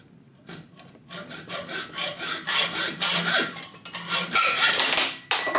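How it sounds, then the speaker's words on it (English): A hacksaw cuts through the support legs of a turkey decoy with rasping back-and-forth strokes that start faint and build into a steady, louder scraping rhythm, close up and without speech. "We're going to use a hacksaw here and trim these supporting legs off right quick."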